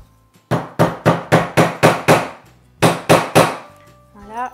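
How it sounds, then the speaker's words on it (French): Nails hammered into wood while building a coat rack from hangers: two sets of sharp, evenly spaced hammer blows, about seven strikes then three, loud and close with short pauses between. "Je plante mes clous."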